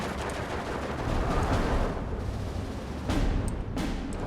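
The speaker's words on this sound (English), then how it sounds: "That's some heavy artillery that just landed there." Heavy artillery shells land in the Steel Division II war game, a dense roar of continuous blasts and rumbling gunfire with two sharper impacts cracking out near the end.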